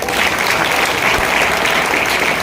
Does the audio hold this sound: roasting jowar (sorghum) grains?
no